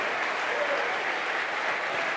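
A church congregation applauds steadily during a Portuguese-language sermon, a dense, even wash of clapping that carries through the whole moment.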